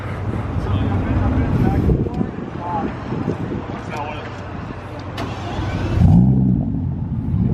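A car engine revs loudly close by, with a deep growling rumble that swells and surges, while people talk excitedly over it.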